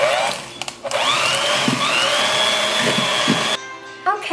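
A mixing appliance whines steadily while blending wet ingredients with sour cream for a berry coffee cake, a loud droning hum that cuts off abruptly near the end.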